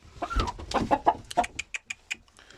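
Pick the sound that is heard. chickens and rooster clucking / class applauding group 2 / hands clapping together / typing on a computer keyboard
chickens and rooster clucking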